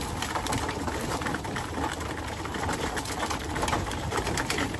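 Pigeons in a breeder's loft at Capistrano, cooing steadily and close over a constant bed of fluttering and shuffling, with no voices.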